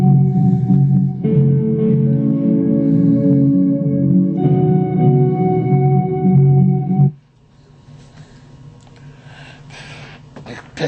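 A looped, distorted electric guitar holds sustained chords that change twice, then cuts off abruptly, leaving a quieter, noisy tail.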